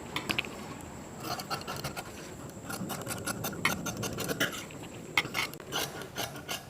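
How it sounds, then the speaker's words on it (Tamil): Blouse fabric being cut produces a close run of crisp, rasping snips and rubbing scratches, repeating unevenly at a moderate level with no talk. "இப்போ இதை நான் கட் பண்ணி காட்டுறேன்."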